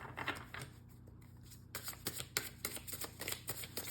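Tarot cards riffled and shuffled close up in a quiet room, a quick run of soft papery flutters and taps, then several crisper bursts in uneven rhythm, with no voices.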